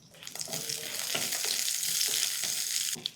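Mustard seeds, cumin and two dried red chillies sizzling in hot sesame oil, a loud close hiss that builds and holds, broken by a few scraping stirs and light popping, with no one speaking.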